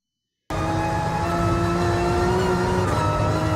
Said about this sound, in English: get back on the gas and get flat out.